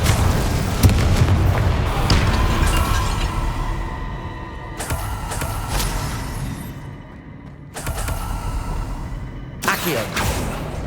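Loud booming blasts of the Confringo spell in Hogwarts Legacy, combat against the Graphorn, go off in several bursts with whooshing tails and short gaps between them, with no voice over them.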